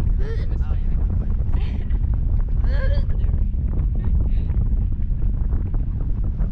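Wind buffets a microphone out on open water aboard a boat, a steady loud low rumble running throughout, with brief voices calling out now and then.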